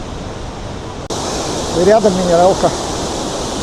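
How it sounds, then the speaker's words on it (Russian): Sultan waterfall near Elbrus in the mountains, a powerful steady roar of falling water heard close and loud throughout, with a voice talking briefly over it. "Водопад, по-моему, Султан называется."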